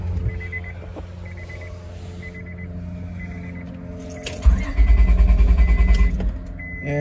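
A 2002 Honda Odyssey engine cranks in a loud, rhythmic churning burst lasting under two seconds. Quieter shop hum and faint intermittent beeping come before it.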